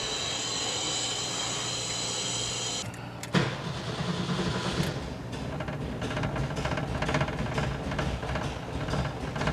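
A 1972 VW Bus with a no-run problem and a fixed leaking carburetor: a steady electric whir stops, then the engine catches with a loud thump and settles into a rough, continuous running rumble.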